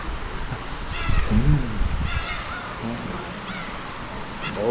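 Seagulls call at a seaside harbor on a Korean fishing trip, a few harsh, wavering cries spaced out over steady background noise with low rumble.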